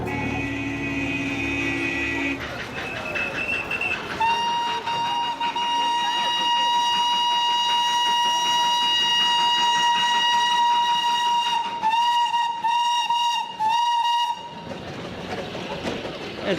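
The Darjeeling narrow gauge steam train rumbles along with a long, sustained whistle blowing steadily for several seconds, loud and close, with faint chatter mixed in.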